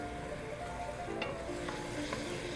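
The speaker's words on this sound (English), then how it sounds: "And now we let the rice toast a bit." Rice toasting with wilted onions in a pan for risotto, a low, even sizzle with a couple of brief utensil clicks, quiet and close.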